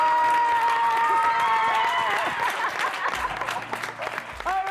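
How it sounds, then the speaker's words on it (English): Studio audience applauding and cheering during a farewell talk show episode, a loud steady burst with some chuckling and background voices mixed in, continuing throughout. "Round of applause."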